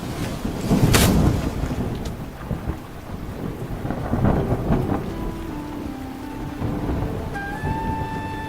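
Heavy rain falls steadily on a forest canopy, with a close crack and boom of thunder early on. Another low rumble rolls through later, and wind buffets the mic throughout.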